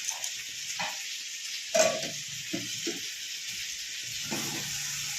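Vegetable curry sautés in a pan, a low sizzling hiss with intermittent stirring scrapes and one louder clatter partway through, no speech.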